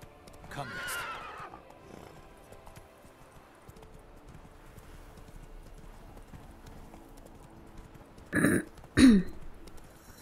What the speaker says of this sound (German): So viele Pferde.